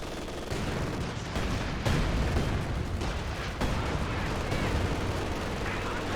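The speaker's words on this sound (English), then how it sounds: "Artillery is on the field doing some damage" Artillery fire in Company of Heroes 2 during a 4v4 battle on the Nordwind map: dense rumbling barrages and gunfire that roll on continuously, loud and busy, with muffled talk underneath.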